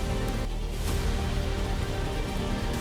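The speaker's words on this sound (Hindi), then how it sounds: "सोनगढ़ तालुका के जंगल में पहाड़ी से गिर रहा झरना। करीब 200 फीट ऊंचाई से गिर रहा पानी।" A waterfall drops about 200 feet from a hillside in the Songadh taluka forest after heavy rain, making a dense, steady roar of rushing water that fills the clip without a break.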